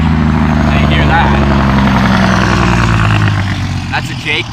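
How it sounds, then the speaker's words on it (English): Loud, close commercial truck engine under a Jake engine brake on a road near Raymond, Washington, a rough rumbling roar with strong low harmonics that fades slightly toward the end. "That's a Jake brake. That's an engine brake on a commercial vehicle."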